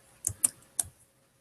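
Three crisp key clicks on a computer keyboard, with the tab key pressed, come in a quick uneven burst and then stop, close up in a quiet room.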